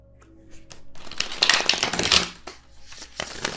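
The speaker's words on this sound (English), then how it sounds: "Do another shuffle real quick." Tarot cards are riffled and shuffled close by in a quick flurry of soft, papery flutters and taps, busiest through the middle and trailing off into a few scattered flicks.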